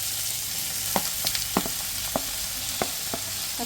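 Ginger garlic paste, onion, tomato and curry leaves sauté in a pan under a continuous close hiss of frying. Soft spatula taps land every half second or so, and no one speaks.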